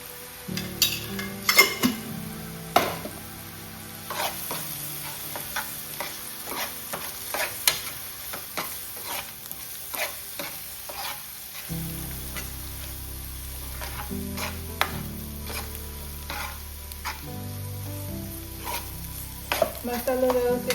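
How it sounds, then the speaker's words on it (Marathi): Masala and onion roasting in a pan for a Malvani-style wild monsoon vegetable dish, with steady frying sizzle and repeated scraping stirs of a spoon against the pan, close and continuous with no talk. "मसाला व्यवस्थित आता भाजलो ना, त्याच्यात भाजी टाकायची."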